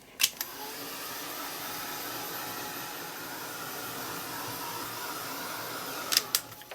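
A handheld heat or hair dryer blows steadily over a mixed media art journal page, a continuous close whooshing roar that runs for several seconds, bracketed by a couple of sharp clicks at the start and end.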